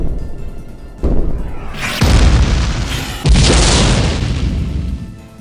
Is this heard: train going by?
no